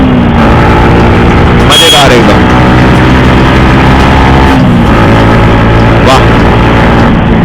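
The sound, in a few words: Yamaha MT-15 motorcycle engine revving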